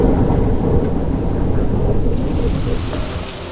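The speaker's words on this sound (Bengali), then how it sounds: "হঠাৎ ঝড় উঠল।" A cartoon storm breaks with a heavy, rolling rumble of thunder and rushing rain, loud and close, easing slightly toward the end.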